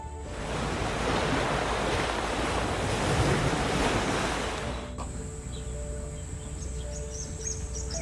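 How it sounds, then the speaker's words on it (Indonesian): Ocean waves break on the beach at Rani Island in Supiori, Papua, as a loud continuous surf roar with wind. It drops abruptly halfway to a quieter hiss, with faint bird calls in the background. "Deburan ombak terngiang bebas tanpa halang menepis bibir pantai"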